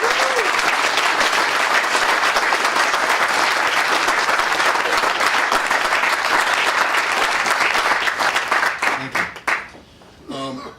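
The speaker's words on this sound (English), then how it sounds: "So a special round of applause for Mike Jacobs." Audience at a Brookhaven birthday celebration breaking into sustained, loud applause for several seconds, then thinning to scattered claps and fading near the end.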